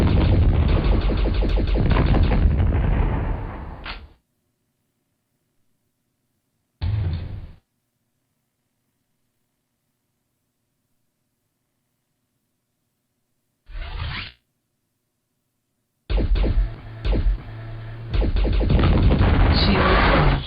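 Weapon fire from the 1996 PC video game Fire Fight, with a plasma gun and missiles: loud dense bursts of shots and blasts in two long stretches, two short bursts in between, and silent gaps separating them.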